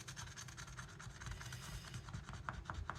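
A lottery scratch card is scraped with rapid rasping strokes, a steady stream of close, faint scratching that turns into sharper distinct scrapes toward the end, with no talking.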